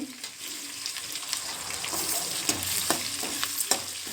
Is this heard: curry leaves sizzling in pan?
yes